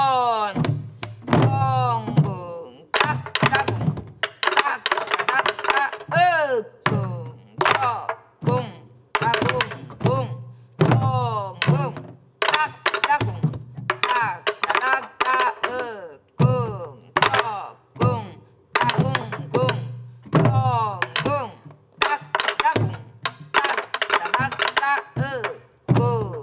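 A Korean buk drum rhythm is practiced in a traditional music lesson: repeated dull thunks in patterned groups, mixed with a voice that chants the drum strokes as syllables, imitating the rhythm.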